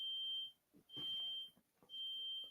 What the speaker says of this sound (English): That sounds like somebody's smoke detector going off.